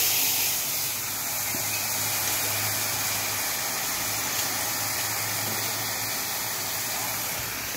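Cinnamon dropped into a hot wok sizzles in a loud, steady hiss that holds evenly throughout, close up and alone, with a faint low hum beneath.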